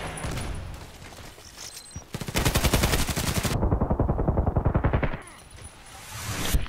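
SA58 rifle fire in the online shooter Contract Wars: a loud, rapid automatic burst of close, evenly spaced shots lasting about three seconds, framed by quieter game ambience.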